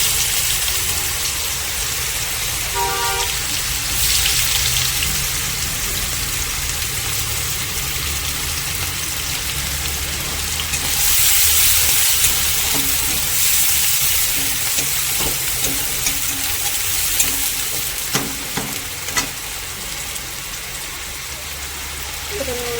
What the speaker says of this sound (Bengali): এইদিকে কড়ার তেল গরম হয়ে গেছে, এখানে পেঁয়াজ দিয়ে দেবো মাছের ঝালের জন্য